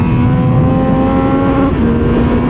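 2022 Triumph Speed Triple 1200 RR motorcycle with a 175-horsepower engine revving hard on a race track, a loud close sustained high-rpm roar that holds near the limiter before dipping slightly, with no talk.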